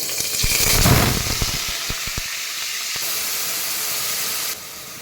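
Onion paste made from three onions hits hot oil in a pan, with a loud hissing sizzle that flares up at first and then settles into a steady, softer frying hiss.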